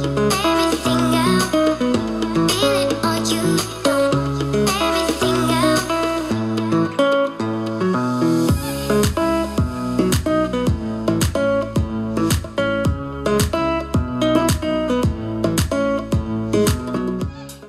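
An Asatron L-0401 MAX party speaker plays music through its aux input on the rock preset. The sound is loud and continuous, with a steady beat, punchy bass and bright highs, and there is no talking.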